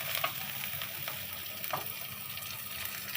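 Oil hits a pan of dry-roasted cumin seeds and sizzles steadily, a close, continuous frying hiss with occasional stirring scrapes and small crackles.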